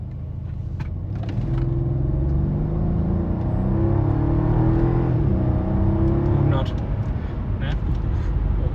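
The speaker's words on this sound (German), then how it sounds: "Jetzt machen wir hier mal eine kurze Beschleunigung, 0 auf 100." A Mercedes E500 Coupe accelerates hard from 0 to 100 km/h, heard from inside the cabin as a loud, steady engine roar and rumble that rises in pitch over several seconds, then eases off near the end.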